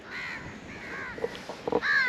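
Crows caw several times at a beach, hoarse calls in short bursts at moderate distance, with a few faint knocks in between and no talking.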